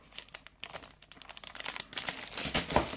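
Glitter-coated paper sheets crinkle and rustle as they are handled up close, a steady run of crisp crackles that thickens and grows louder toward the end.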